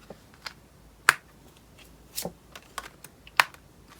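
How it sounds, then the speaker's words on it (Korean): Tarot cards being drawn and shuffled, a few sharp papery snaps and flicks scattered irregularly over a quiet background, close and alone with no talking. "동성과 이성을 나눠서 카드를 뽑아볼게요."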